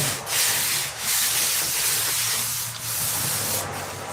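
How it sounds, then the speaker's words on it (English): Aircraft dope goes onto the top of a fabric-covered wing with a steady, close brushing hiss that runs almost continuously, broken by brief pauses between strokes, with no talking. "And then I dope the top."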